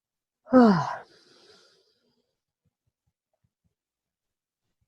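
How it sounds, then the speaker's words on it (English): One drawn-out human yawn rises and then falls in pitch, audible and fairly close. It trails off into quiet breath, and then near-silence follows. "There's a yawn."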